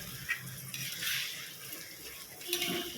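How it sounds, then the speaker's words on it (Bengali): Water poured into a pan of katla fish curry: a short splashing pour with light clinks of metal, close up. "তবে এটার মধ্যে আমি একটু জল দেবো"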